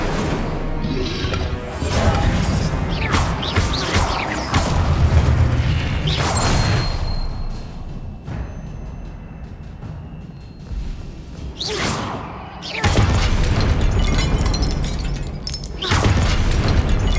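Fire spell effects cast in the video game Hogwarts Legacy, with loud booming whooshes and crashing blasts recurring through the scene over dense game sound, dipping quieter midway before surging back.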